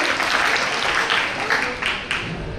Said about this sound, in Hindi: ऐसे ही सभी भक्तों के लिए एक बार जोरदार ताली द्वारा